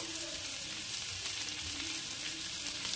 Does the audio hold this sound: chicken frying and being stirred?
yes